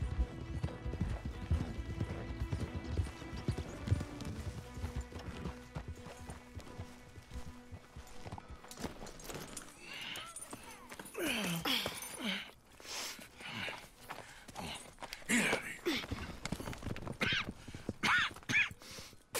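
Horse hooves clop along in a Red Dead Redemption 2 game soundscape with music underneath, followed by brighter bursts of whinnying and movement in the second half.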